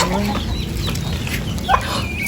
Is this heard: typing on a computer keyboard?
no